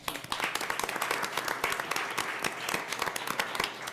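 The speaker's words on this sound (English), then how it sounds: "So please give them a round of applause" Audience applause for instructors at a Kankakee School District 111 board meeting, a moderate crowd clapping steadily in a room with distinct individual hand claps standing out, close and fairly loud, no talk.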